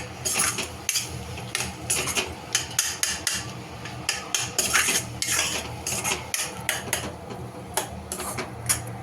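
A spoon stirs pav bhaji masala in a pan, giving repeated close metallic taps and scrapes against the cookware in an uneven, busy rhythm.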